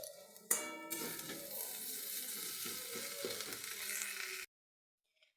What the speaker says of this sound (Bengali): বাদামটাকে অল্প একটু ফ্রাই করে নিচ্ছি।